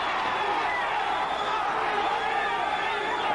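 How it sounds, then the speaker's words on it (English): A boxing arena crowd cheers and roars continuously during a 1983 Chacon vs Boza-Edwards title fight, with a dense, loud wash of voices and whoops throughout. "the crowd coming alive"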